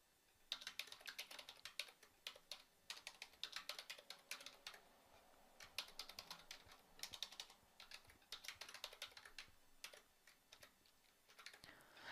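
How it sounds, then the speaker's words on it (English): Steady typing on a computer keyboard while entering bank head-office details, with quick irregular bursts of keystrokes and short pauses, close and fairly quiet with no voices. "I am actually just going to type this information in."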